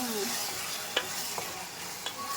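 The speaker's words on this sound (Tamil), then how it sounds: "இதை வச்சு நம்ம தக்காளியை மசிச்சு கொடுத்துருக்குறோம்" Tomatoes being mashed and stirred in a frying pan, a low sizzle running throughout with a few soft utensil scrapes and taps, close and quiet, no talking.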